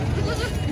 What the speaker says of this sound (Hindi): देसी बकरियाँ हैं